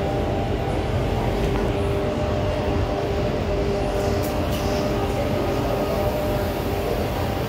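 A train rumbles steadily at Bondi Junction station on Sydney's Eastern Suburbs and Illawarra line, a continuous broad roar of wheels and motors with a faint tonal hum, loud and unbroken with no talk.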